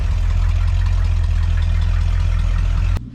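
A 1930 Ford Model A engine with a small exhaust leak idles with a steady, low rumble close by for about three seconds, even and unbroken, then cuts off abruptly near the end.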